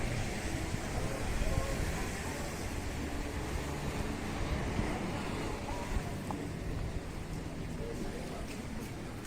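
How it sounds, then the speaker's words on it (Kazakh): Open sea along the old coastal town in Montenegro, with boats and yachts moving offshore: a steady, rushing wash of wind and surf with a low engine-like rumble, continuous and fairly distant for the whole stretch. "Қайықтар жүреді, яхталар."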